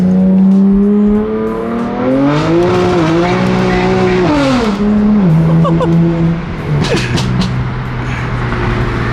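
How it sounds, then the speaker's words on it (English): A BMW M3 CS spinning its tires, with loud, close engine revs rising and falling under a long squeal of the tires. "Let's see if this thing will spin the tires."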